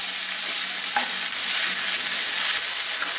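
Onions frying in a frying pan until soft and light caramel brown, an even, unbroken hiss of sizzling oil, close and loud throughout.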